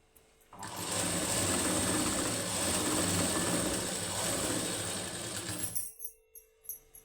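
A sewing machine stitching a blouse neck runs in one continuous, fast whirring burst of about five seconds, close and loud, then stops, followed by a few soft handling clicks.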